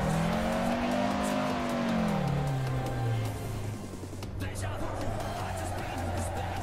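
Car engine in a VR racing game, a model somewhat more powerful than an Opel Kadett, driven on a runway test track; revs climb, then drop and settle into a steady drone, loud and close with no other sound.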